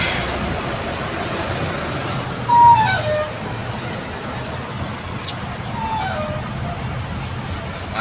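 Steady road traffic in a congested jam with buses nearby, a continuous low rumble of idling and creeping engines, a brief louder engine swell midway and a faint tonal horn-like sweep.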